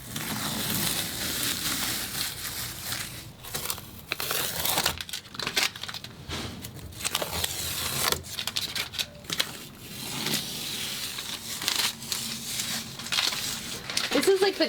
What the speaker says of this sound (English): we just need to peel off the tape, and then this area will be ready to be stained.